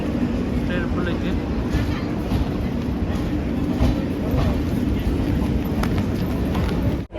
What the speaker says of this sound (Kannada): ಈಗ ಕೋಲ್ಹಾಪುರ ಕಲಬುರಗಿ ಟ್ರೈನ್ ಬಂದೈತಿ